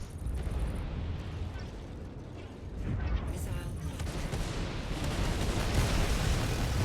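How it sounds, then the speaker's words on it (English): Missiles from a Drake Cutlass Black striking a ship in Star Citizen, heavy rumbling blasts and booming impacts rolling on continuously, with a voice talking over the barrage. "we'll put a few missiles into it"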